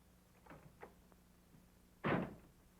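A sudden loud thud of a 1956 Ford car door bursting open, following a few faint knocks and clicks in an otherwise quiet space.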